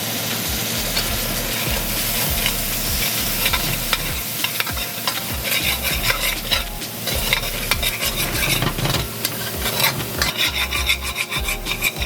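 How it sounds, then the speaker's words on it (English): Curry frying in a pot while being stirred steadily: a continuous sizzle under repeated scraping and rubbing strokes of a spoon against the pot, close and fairly loud, with no voices. "when I'm frying my curry, I like to put 2 spoons of green seasoning."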